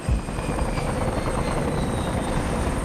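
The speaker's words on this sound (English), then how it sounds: "I got some helicopters coming down here off to my left flank." Helicopter rotor noise inside a virtual reality therapy simulation for veterans with PTSD, a steady, dense whirring drone that holds at an even level throughout, with no voices over it.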